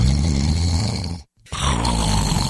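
A person snoring in a bedroom at night: two loud, rough, rumbling snores, close by, separated by a short silent pause.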